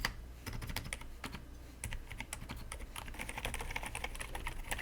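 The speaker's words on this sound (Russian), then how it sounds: "У меня светлая версия на Silent свечах от Akai, и вот так звучит эта клавиатура." Typing on an Akko x Dark Project 5075 mechanical keyboard fitted with silent switches, a rapid irregular run of soft muted key clacks, close and steady, with no talk.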